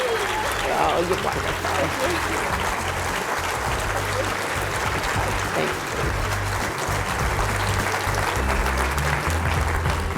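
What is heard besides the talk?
audience applause for Abigail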